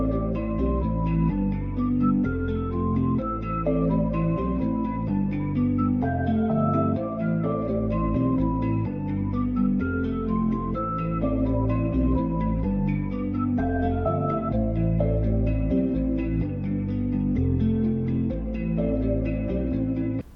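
A guitar and flute melody loop from the Delano loop kit, built for a wavy beat, plays steadily over low bass for about twenty seconds with no talking.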